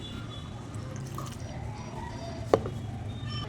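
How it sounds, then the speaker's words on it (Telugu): Potato bread pakoda batter being mixed by hand with water, wet squishing and dripping sounds close up with one sharp tap midway. "ఇప్పుడు దీన్ని వాటర్ వేసి కలుపుకుందామండి."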